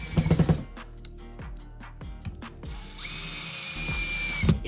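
A power drill drives a screw through a moose head hanger into a wall stud, running in short whirring bursts broken by brief pauses, close and fairly loud, with no talk.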